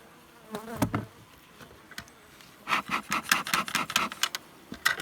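Wild bees buzz in short bursts close to the listener during honey harvesting from a tree hive in Polesia, a brief drone early, then a dense run of buzzing bursts mixed with scraping and rubbing sounds.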